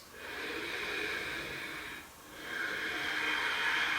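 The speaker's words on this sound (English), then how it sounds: "Take 2 deep breaths" Slow, deep breaths held in a yoga pose during a core strength flow, two long airy breaths close to the mic, separated by a brief dip near the middle, with no talking.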